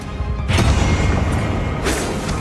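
Bombarda spell explosion in Hogwarts Legacy, a loud booming blast with a sharp onset around the half-second mark followed by a second burst near the end, set over a dense, rumbling game soundscape.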